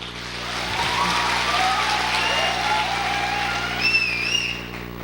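An audience at a gathering claps steadily for a person's upline, a dense continuous wash of applause with a few thin whistles rising above it toward the end.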